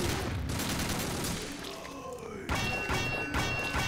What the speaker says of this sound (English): I can deflect bullets with my sword.